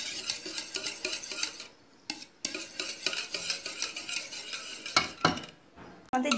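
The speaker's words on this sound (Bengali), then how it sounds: "আমি একটি হ্যান্ড হুইস্কের সাহায্যে এটিকে ভালো করে ফেটে নিচ্ছি।" Eggs are beaten with a hand whisk in a bowl, rapid, rhythmic metallic clicking and scraping close up, with a couple of brief pauses between bursts.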